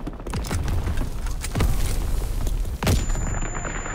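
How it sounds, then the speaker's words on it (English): Grenade blasts and gunfire in the Call of Duty WW2 campaign: repeated heavy booms and rapid shots over a dense roar of battle, loud and close, with one strong burst near the end. "Let's just throw another nade in there."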